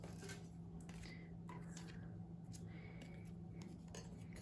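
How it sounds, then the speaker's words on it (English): Scissors snipping through paper to cut out star shapes for a handmade shaker card, with a series of faint, close cuts spread across a steady low hum. "And now cut out the remainder of your stars."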